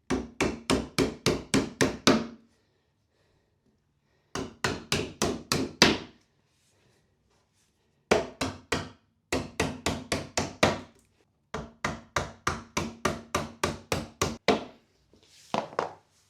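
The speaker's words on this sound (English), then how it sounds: "Use a hammer to help you put them through." A hammer drives hinge parts into an Ikea Pax wardrobe with sharp, close wooden knocks in quick bursts of about five to eight blows each, separated by short silent pauses.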